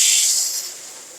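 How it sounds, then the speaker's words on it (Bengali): Boiled paddy poured into the hopper of a small rice mill, a loud close hissing rush of grain that slides in and fades within about a second. "আমরা সিদ্ধ ধান ঢেলে দিলাম"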